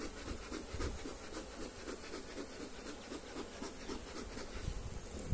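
Honeybees swarm around an opened Dadant hive during inspection, a dense, continuous buzzing hum close to the microphone with faint rustling and scraping underneath.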